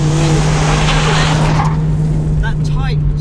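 A 2WD Mitsubishi Lancer stage rally car slides through a corner, its engine droning loudly with gravel or tyre scrubbing noise and shifting revs as the car rotates, while someone talks over it.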